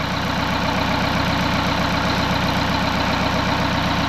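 An overhauled Ursus C-360 tractor engine runs steadily, a loud, even, continuous diesel drone with a constant low throb and no speech over it.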